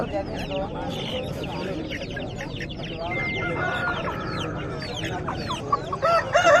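Dense clucking and crowing from chickens at a busy Saturday hen market, with a young rooster among the birds, running steadily under a constant murmur of crowd voices.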